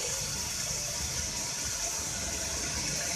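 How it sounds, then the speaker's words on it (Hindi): Water pours steadily into a pot of beef aloo gosht curry with fried potatoes and masala, a continuous close gushing rush with no talk. "अब इसमें मैं पानी ऐड कर रही हूँ।"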